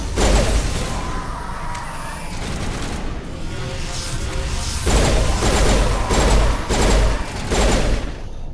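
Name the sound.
pistol firing in three-round bursts, Mass Effect video game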